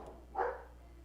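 A single short, muffled dog bark sounds at a distance over a low steady hum, faint and alone.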